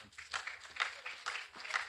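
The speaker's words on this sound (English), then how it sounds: "So let's give him a round of applause." Audience applause at a pharmacists' continuing education conference opening ceremony, thin and fairly faint, with scattered claps patterning irregularly over two seconds.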